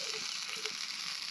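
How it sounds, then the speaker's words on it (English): Burgers sizzle on a grill at an off-grid campsite, a short burst of soft, steady crackling hiss with faint pops and no voices. "They are sizzling."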